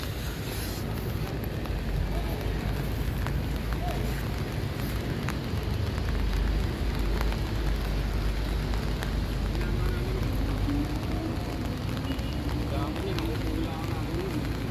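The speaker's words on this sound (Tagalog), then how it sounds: "ngayong hapong ito umuulan po" Afternoon rain falls at the Pasig River Esplanade near the Quezon Bridge, a steady hiss and patter over a low outdoor rumble, with a voice talking throughout.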